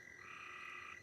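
A screaming frog at a goat rescue gives a single sustained, bleating call resembling a baby goat, steady for about a second over soft background night noise.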